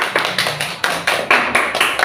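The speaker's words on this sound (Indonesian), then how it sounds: "Oke, tepuk tangan." Classroom clapping during a teaching session on a public-service water-saving advert: about ten sharp, fairly loud claps in a steady rhythm, close by and unaccompanied by talk.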